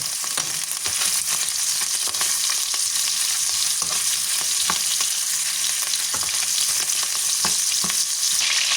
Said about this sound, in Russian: Сначала обжариваю колбаски.